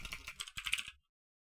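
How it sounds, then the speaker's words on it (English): Quick, rapid typing on a computer keyboard during a live coding session, a short burst of clustered clicks that stops abruptly, close and fairly quiet. "gotta love typing live"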